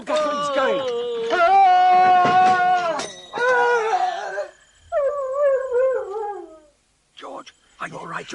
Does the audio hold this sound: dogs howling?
yes